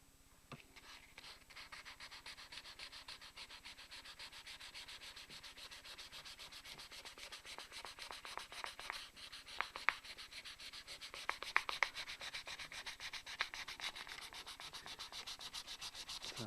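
A handmade ergonomic guitar body prototype is hand sanded with 1200 grit sandpaper. The rubbing is soft, steady and fairly faint, continuing throughout with small scratchy peaks.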